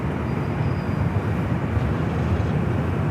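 Delta Airlines Boeing 737-800 taking off on runway 24 left at LAX, bound for Salt Lake City: a loud, broad, continuous jet engine roar holding steady throughout, with no voices.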